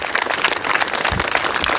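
An audience clapping in a hall, a dense, even patter of hand claps that holds at a steady level without building, close and loud for a short burst.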